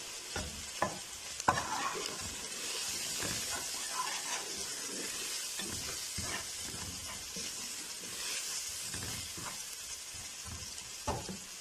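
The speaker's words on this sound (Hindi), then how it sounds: "एक मिनट के लिए हमने बस मिर्चों को भून लेना" Onion and chillies frying in a pan with salt, chilli powder and turmeric, a steady soft sizzle and hiss broken by occasional scraping stirs of the spoon, close and fairly quiet.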